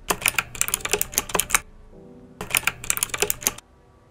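Rapid computer keyboard typing sound effect in two bursts of clattering keystrokes, close and crisp, with a brief quiet gap between them.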